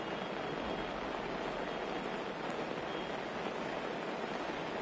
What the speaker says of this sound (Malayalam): അവിടെ നല്ല മഴ പെയ്യുന്നുണ്ട്